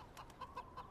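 Chickens cluck in a few short, evenly spaced clucks at moderate distance, set in a period film about General Luna.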